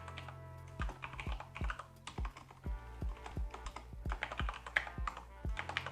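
A password is typed on a computer keyboard, a quiet, close run of irregular key clicks and taps with small pauses between bursts, heard alone.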